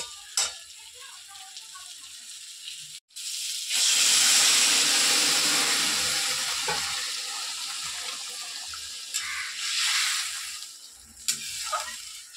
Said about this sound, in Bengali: তরকারিতে জল দিয়ে দিলাম।